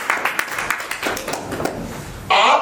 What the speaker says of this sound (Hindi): एक बार जोर से तालियां बजाएंगे सर के लिए